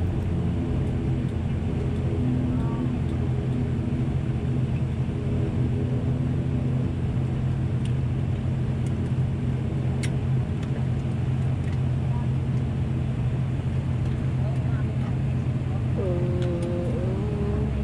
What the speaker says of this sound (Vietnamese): Và bây giờ máy bay đang rẽ vào nhà ga của sân bay Côn Đảo.